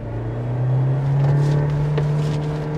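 A Mahindra Scorpio N accelerates hard through the gears, heard from inside as a loud, steady engine drone that climbs gradually in pitch, with no talking.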